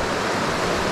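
The Momose River's flowing water makes a brief, dense, steady rushing roar heard up close, with no voices.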